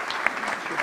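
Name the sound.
audience applause welcoming speaker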